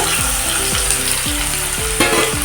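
Potatoes coated in salt and turmeric fry in white oil in a wok, with a loud, close, constant sizzle and repeated rhythmic spatula scrapes sweeping across the pan.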